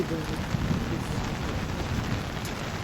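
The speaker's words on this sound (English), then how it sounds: "I know it's cold, I know it's raining" Rain falling at an outdoor vigil on a cold day, a steady broadband patter and hiss that holds throughout, with faint voices in the background.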